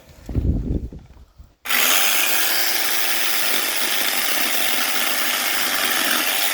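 A handheld angle grinder bites into firewood, starting abruptly after a brief stretch of quiet voices and then holding a loud, steady, close-up high-pitched grinding and rasping roar to the end.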